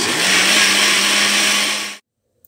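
Electric mixer whipping cream filling for donuts runs steadily and loudly for about two seconds, a dense whirring drone, then cuts off abruptly into silence.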